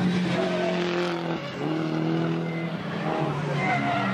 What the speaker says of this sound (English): Kemper pushing his car to the limit as he still sees the chance to get second in this race